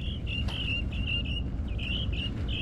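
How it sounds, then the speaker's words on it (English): Young house sparrow chicks, only a couple of days old, chirp in a thin, high, continuous series of cheeps, faint against a steady low rumble of background noise. "We're gonna find out that these are house sparrows."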